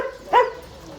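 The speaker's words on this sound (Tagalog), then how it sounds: "Aso." A single short dog bark sounds near a farm, loud and sharp against a quiet background.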